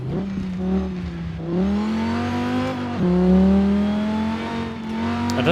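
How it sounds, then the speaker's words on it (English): Engine of a Cyberpunk 2077 car in Forza Horizon 4 revving through gears, a loud close drone that climbs in pitch, drops at each shift and climbs again, with no talking. "I'm running out of revs because it sounds really good above 6"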